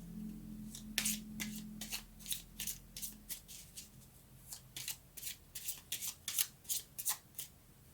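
Tarot cards shuffled by hand, a run of crisp riffling bursts that come faster and denser toward the end, close up and fairly quiet, with no voices.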